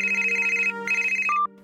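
A telephone ringtone chimes in a cartoon: a steady electronic ring runs for most of the clip, breaks off briefly, resumes, then ends with a short higher beep. It is loud and close, with no voices over it.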